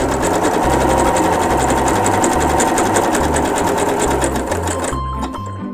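Sewing machine running a zigzag stitch through fabric for a face mask, a loud rapid mechanical whir with rhythmic pulsing that slows and stops near the end.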